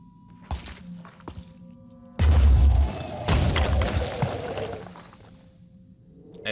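A grenade goes off in the tactical video game Phoenix Point as a sudden loud boom with a crunching, shattering burst, then a rumbling tail that fades over a few seconds.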